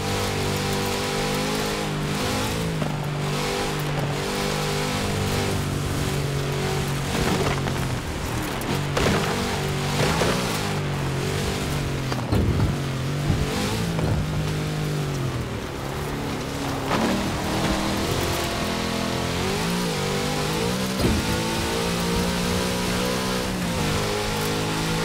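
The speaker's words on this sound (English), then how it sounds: "Power in the big Chevrolet engine." A big Chevrolet engine drives in Forza Horizon 4 over rough ground, a steady loud drone with shifting revs and gear changes under constant road and tyre noise.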